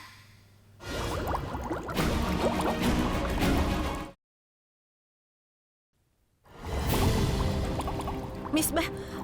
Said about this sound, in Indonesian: Ada suara gelembung air.